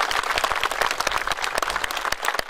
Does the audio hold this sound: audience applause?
yes